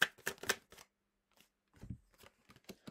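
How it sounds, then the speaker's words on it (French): Tarot cards are cut and shuffled close up, giving a quick cluster of crisp riffling snaps at first, a pause, then scattered softer card taps and slides. "Prends avec un tarot, coupe un peu."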